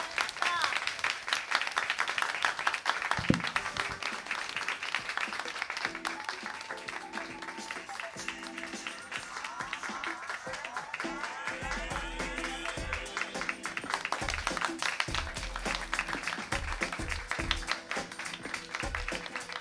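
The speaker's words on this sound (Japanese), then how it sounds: "大きな拍手でお送りください" An audience at a Tokyo Tower stage event claps after a performance. The applause is long and continuous, with sharp clustered claps, tonal sound underneath and some voices mixed in.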